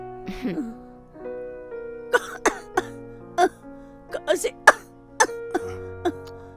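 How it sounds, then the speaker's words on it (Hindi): A woman with a mild fever coughs over and over, a string of sharp, close coughs and throat-clearing bursts separated by short pauses, with a low tone sustained underneath. "खांसी नहीं रुक रही है।"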